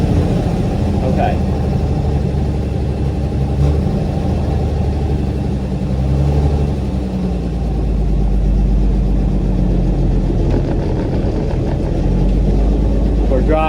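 Ford Falcon engine running rough and loud right after a fuel pump install with the choke pulled out, a steady close rumble with low throbbing and slight revs throughout.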